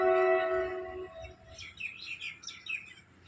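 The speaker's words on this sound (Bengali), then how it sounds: "বিকাল টাইমটা পাখির আওয়াজে মন ভরে যায়" Birds chirp in the afternoon outdoors, a run of quick, bright tweets rising after a steady tonal hum fades, moderately near and fairly soft.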